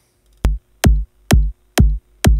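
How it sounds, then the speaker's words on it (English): Five punchy electronic kick drum hits land in a steady rhythm, each a deep thump with a sharp click, alone and loud. "what I've got here is the kick drum"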